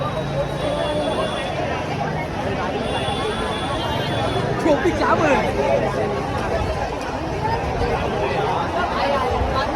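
A dense crowd packs Marine Drive during a cricket team victory parade, a continuous wash of distant chatter and babble with no single voice standing out.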